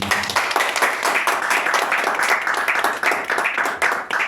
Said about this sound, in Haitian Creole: On va essayer à applaudir.